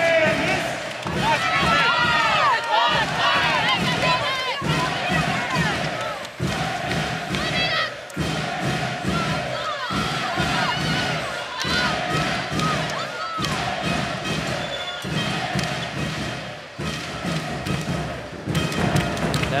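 Volleyball crowd and players in a Dresden playoff semifinal hall, with loud cheering, shouting and rhythmic clapping at close range, steady for the whole stretch, mixed with commentary voices over the top.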